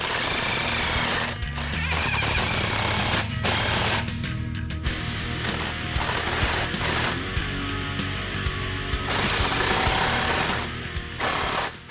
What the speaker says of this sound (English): Tighten all the clamps with a 15mm socket.